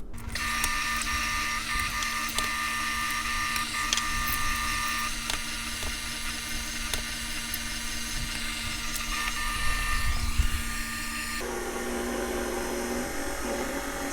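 Continuous whirring and clicking of an electric mixer beating eggs into cookie batter for Moroccan boat cookies, a steady motor drone with ticking mechanical rattles and a brief shift in pitch near the end.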